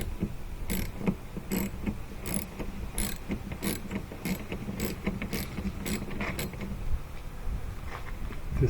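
A ratchet wrench loosens a 13 mm nut on the rear window wiper of a GMC Yukon, giving a series of quick, close clicking bursts in an irregular rhythm against a quiet background.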